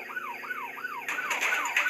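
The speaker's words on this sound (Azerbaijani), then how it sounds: "Polis maşını gəlir." A police car siren in the Dude Theft Wars video game wails with a repeating rise-and-fall yelp. It then turns into a harsher, steadier electronic tone, fairly loud and alone.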